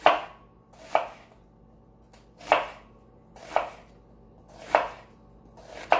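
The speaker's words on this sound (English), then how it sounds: "So I'm just slicing through the rest of my onion." A knife slices through an onion on a cutting board for ratatouille, six crisp chops at an irregular, unhurried pace, close and clear with quiet gaps between strokes.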